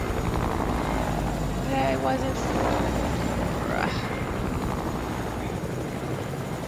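Choppa helicopter in the video game Fortnite, its rotor drone loud and continuous throughout, with someone speaking briefly over it.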